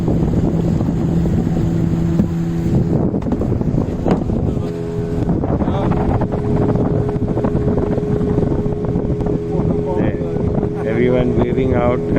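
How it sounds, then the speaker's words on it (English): A small motorboat engine cruising on the River Sal in South Goa drones steadily throughout with wind buffeting the microphone, while people talk in the background over the water. "going on a small boat cruise"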